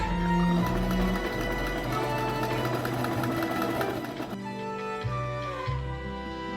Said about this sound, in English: I'm just going to top stitch along there to close that gap